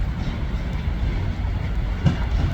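A train pulling into platform 13 at Manchester Piccadilly station, a steady low rumble with faint wheel clatter, close and continuous, with station ambience around it.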